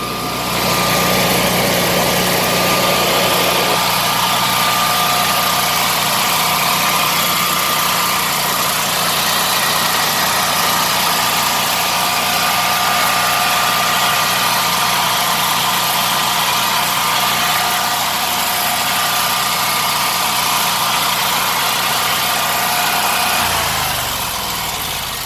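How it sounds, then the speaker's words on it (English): A Generac 16kw standby generator engine runs steadily while cooling down, a constant close droning hum with a whining tone, which drops lower and quieter near the end. "The generator is cooling down right now."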